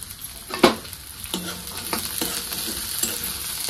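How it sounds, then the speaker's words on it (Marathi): Green peas hit hot oil with a sharp burst, then sizzle and crackle as they are stirred, spoon scrapes and clinks recurring every half second or so in a close, busy frying sound. "मी वाटाणा टाकून घेते आता तेलामध्ये।"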